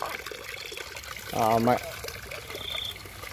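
Water trickles steadily through a filter into a tilapia fish tank, a soft continuous flow in the background while a voice briefly speaks over it.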